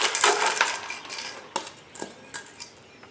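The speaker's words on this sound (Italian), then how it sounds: "Metto 450 g di piselli in una padella." Frozen peas pour into a pan with a bright rattling clatter at first, thinning into a few scattered clinks and taps, close and moderately loud, no voices.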